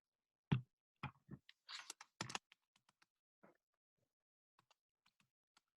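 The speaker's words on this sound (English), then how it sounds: "Nice typing, Steve." Computer keyboard typing comes in quiet scattered clicks, a few louder clustered keystrokes early on and then sparse faint taps trailing off.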